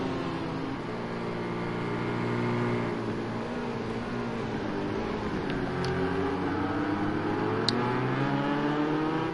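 GTE race car engines in Project Cars at the Hockenheim GP circuit, a steady loud drone of several engines with pitch rising and falling through gear changes, continuous throughout.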